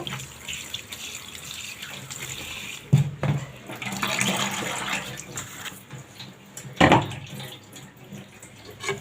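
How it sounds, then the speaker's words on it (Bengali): Bottle gourd leaves being rinsed under a running kitchen tap, a steady splashing water stream with a couple of louder bursts as the leaves are moved through it; no talking. "লাউ পাতাগুলো আমি একটু ধুয়ে নিচ্ছি"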